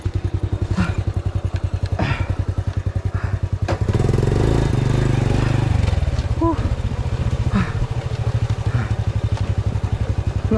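A Honda 100 underbone motorcycle engine chugs and putters close by while riding downhill on a dirt trail, with a rougher, louder stretch midway and occasional clunks, as if rolling over uneven ground.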